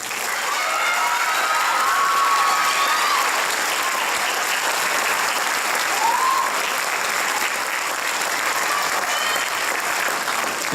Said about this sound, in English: A round of applause for this person.